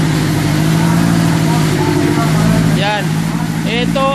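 A Toyota Corolla engine with throttle delay, vibration, low power and blow-by runs roughly, a steady loud low drone throughout, with someone talking over it toward the end.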